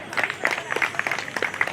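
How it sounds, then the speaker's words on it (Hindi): Applause from a village audience at a Ramayana recitation gathering, a burst of brisk scattered clapping from many hands at moderate distance, with a voice faintly underneath. "एक बार जोरदार ताली बजाओ।"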